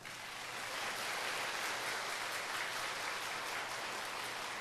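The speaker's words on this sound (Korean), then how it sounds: "박수." An audience at a church seminar applauds, a broad continuous patter of many hands that stays even and fairly distant, with no voices standing out.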